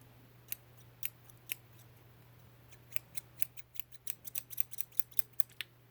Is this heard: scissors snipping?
yes